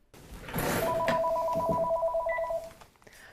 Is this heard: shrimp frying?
no